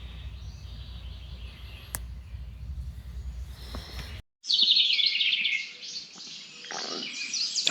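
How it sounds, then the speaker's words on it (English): Birds chirp and sing outdoors on a quiet morning, faint calls over a low hum at first, then a bright, close, busy burst of song that carries on to the end. "There's so many nature sounds. The birds are so active."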